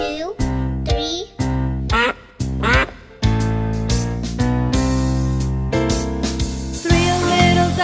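Quacking in a children's nursery rhyme about ducks, loud and close: short nasal calls in separate bursts, then a denser run of quacks over sung, melodic voices.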